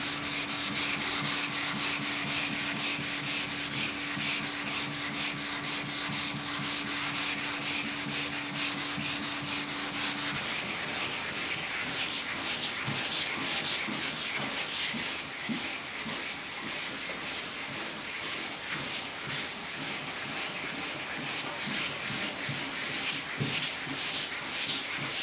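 Continuous abrasive rubbing of sanding against the hard surface of a 1972 Ford 4x4 pickup tailgate, rhythmic and close, with a faint steady hum in the first half.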